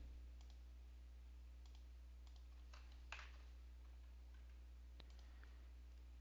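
Sparse, faint keystrokes on a computer keyboard, a few scattered clicks over a steady low hum, with one slightly louder tap midway.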